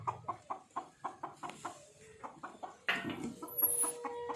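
A chicken clucks in a run of short, rhythmic calls close by, then a louder burst of squawking and flapping follows with other birds calling around it.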